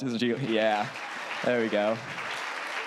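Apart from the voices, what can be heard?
audience applause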